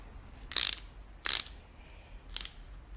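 A hex tool tightens the bolt on a Chinook rubber windsurf mast base, giving three short, close ratcheting bursts separated by pauses, with no talking.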